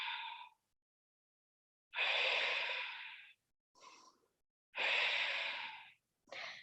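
Slow, deep breaths fill a Hatha yoga class, close and fairly loud airy inhales and exhales in a steady rhythm, each lasting around a second or more, separated by silent pauses, with no talking.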